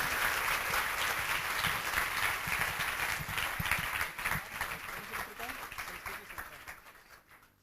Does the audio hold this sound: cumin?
no